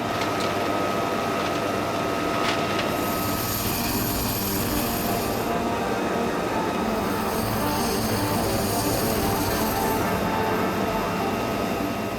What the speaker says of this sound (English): A Marine Huey and Cobra may look like the helicopters flown over Vietnam